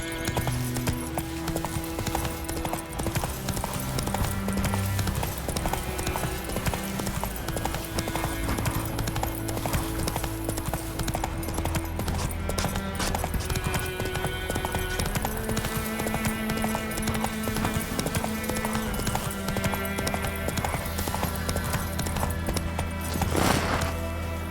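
Horse hooves clip-clop at a steady gallop in The Witcher 3 video game, loud and continuous beneath a dense layer of game music, with a brief whinny near the end.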